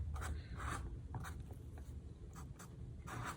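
A marker pen sweeps across sketchbook paper during head drawing, a series of soft close swooshing strokes in uneven bursts, faint and quiet with no talking.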